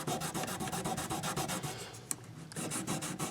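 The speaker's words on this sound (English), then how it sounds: "So I have a little tiny bit of 1000 grit sandpaper and my fret guard." A small piece of 1000 grit sandpaper rubs over the medium jumbo frets of an Ibanez guitar in quick, steady back-and-forth strokes, close and continuous with a brief pause near the end.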